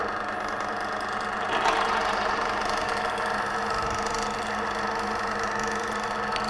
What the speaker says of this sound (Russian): И включаю снова двигатель.